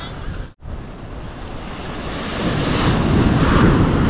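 Surf washing onto a beach in Ivory Coast, a steady broad rush that swells louder toward the end, with wind buffeting the microphone and a brief dropout near the start.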